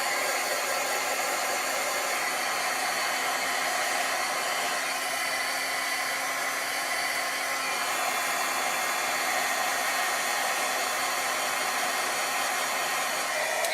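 A heat tool blows hot air to emboss a card, a steady, even whooshing roar that runs without a break from start to finish and stays alone.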